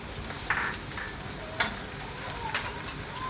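Mussels stir-fried in a pan with fish sauce, sugar and oyster sauce for Thai basil mussels, giving a steady close sizzle with scraping stirs and a few sharp clacks of the utensil against the pan.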